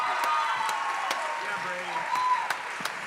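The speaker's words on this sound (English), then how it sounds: "Another round of applause for Brady Green." Applause from an audience at a South Carolina musical theatre showcase, steady clapping throughout with sharp individual claps standing out, while someone speaks over it.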